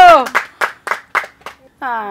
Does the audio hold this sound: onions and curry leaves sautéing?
no